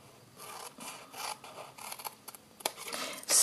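Paper being trimmed for a frosted floral craft box: a series of close, short rasping cuts and scrapes in uneven bursts, with a louder swish at the very end and no talking.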